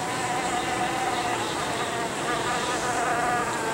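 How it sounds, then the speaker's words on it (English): Honey bee colony living inside a 100-year-old column, a continuous dense buzzing hum from many bees, steady and fairly close, alone without any talk. "a decent little bit of bees in there"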